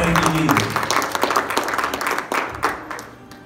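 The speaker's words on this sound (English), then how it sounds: "Let's give God a hand clap." A church congregation at a Bible study claps hands together, loud, close, irregular clapping that starts over a brief voice and tapers off toward the end.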